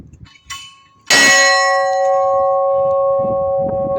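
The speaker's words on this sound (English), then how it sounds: "So you want me to ring that bell? It's gonna get real loud" A loud bell at a train museum strikes once and rings out with a long, sustained metallic tone after a couple of faint taps, the hum slowly fading.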